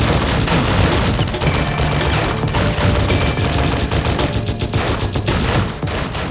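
Dense, sustained gunfire and explosions fill a battle in the video game Gangs of London, loud and continuous with overlapping bursts and no clear pauses.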